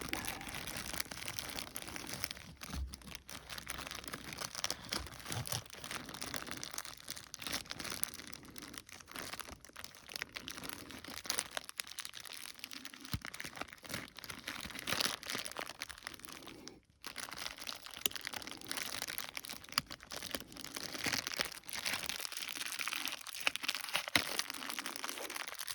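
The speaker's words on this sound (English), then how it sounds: "Get a zippy bag." A plastic zip bag crinkles and rustles in close, quiet handling while sphagnum moss is packed for air layering an Eastern Redbud, irregular crunchy bursts continuing with brief pauses.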